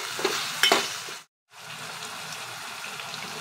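Spices and turmeric sizzle in hot oil for a ridge gourd curry, with a steady frying hiss, a few stirring scrapes near the start and a brief silent cut midway.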